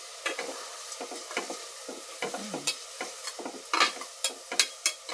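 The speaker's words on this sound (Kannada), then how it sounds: "ಬೇಯಿಸಿ ಚೆನ್ನಾಗಿ ಫ್ರೈ ಮಾಡಬೇಕು." Tomatoes frying and being stirred in a pan while cooking tomato pulao, with a steady sizzle and repeated close scraping strokes of a spoon against the pan, no voices.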